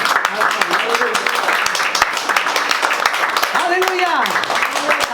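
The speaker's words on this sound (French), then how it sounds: "Applaudissons le Seigneur." A church congregation applauds together, dense steady clapping filling the room throughout, with voices singing or calling out over it.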